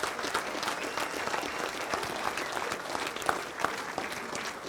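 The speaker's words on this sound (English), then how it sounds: "One more quick round of applause for Cambria" Wedding reception guests applaud a performance with a steady, dense round of clapping from a roomful of people, even and sustained throughout at moderate distance.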